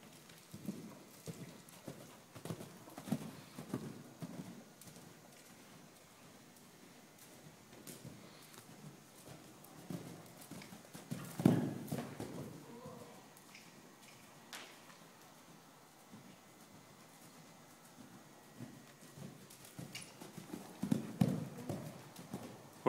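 Hooves of a three-year-old Holsteiner horse cantering during a first jumping session, soft rhythmic thuds in a steady three-beat pattern at moderate distance, swelling louder around the middle and near the end.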